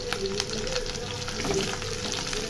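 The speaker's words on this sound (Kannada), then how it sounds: "ಇವಾಗ ಇದನ್ನು ಚೆನ್ನಾಗಿ ಫ್ರೈ ಮಾಡ್ಕೋಬೇಕು ಈರುಳ್ಳಿ ಬ್ರೌನ್ ಕಲರ್ ತರಬೇಕು" Onions and fresh curry leaves sizzle steadily in hot oil for a hotel-style cauliflower fry, a continuous close crackle with small stirring scrapes and no voice.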